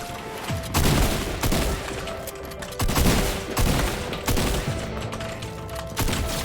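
Rapid gunfire in a first-person shooter video game, loud repeated bursts of shots arriving in clusters roughly every second, close and dense with no talk over them.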